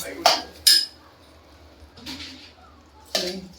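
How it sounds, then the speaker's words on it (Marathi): Soaked rice for moong dal khichdi is tipped into a pan of sautéed spices, with a few sharp metallic clinks and scrapes of a spoon against the pan, separated by quiet stretches, close up. "आता हे तांदूळ आपण ह्याच्यामध्ये टाकणार आहोत"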